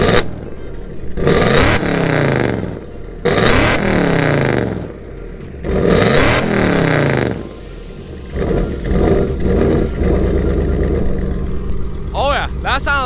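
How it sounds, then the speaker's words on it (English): Ford Mustang GT V8, rebuilt from a wreck and missing its air box, revved hard in several bursts with idle between them, loud and close, with someone talking at the end. "I'll let it warm up a little bit and give y'all guys some revs."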